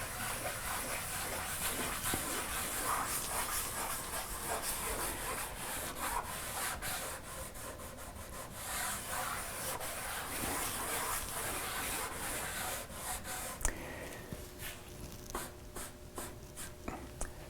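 A cloth rubs wood dye evenly over a guitar body in steady back-and-forth strokes, a close, continuous soft scrubbing with a few small knocks near the end and no talking.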